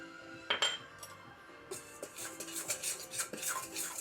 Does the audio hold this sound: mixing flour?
yes